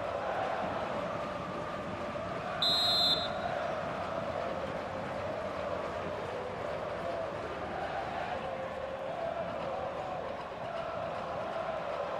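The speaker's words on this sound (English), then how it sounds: "The crowd urging him to shoot." A football stadium crowd at an Argentina versus United States match roars steadily in a broad, distant wash, urging a player to shoot, while a commentator talks over it and a brief whistle-like tone cuts through.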